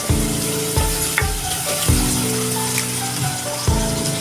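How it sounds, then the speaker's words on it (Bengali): Onions frying lightly in a clay pot sizzle steadily and loudly, with repeated scraping stirs of a utensil knocking against the pot. "পেঁয়াজটাকে আমি ভেজে নিচ্ছি একটু হালকা করে ভেজে নিচ্ছি"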